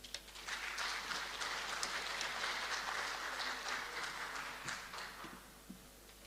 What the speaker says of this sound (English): Let's give Ms. Senator another round of applause, please.